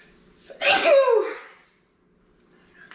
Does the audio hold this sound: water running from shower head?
no